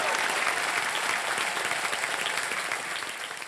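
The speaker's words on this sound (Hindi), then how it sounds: "जोरदार तालियां." A TV game show studio audience in India applauds the winners with a continuous wash of dense clapping that holds steady, then fades a little near the end.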